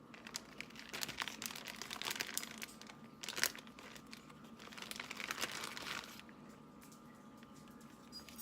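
Paper backing being peeled off slices of pepper jack cheese in a kitchen: a steady run of soft crinkling and crackling with a sharper rustle partway, fading to quiet near the end.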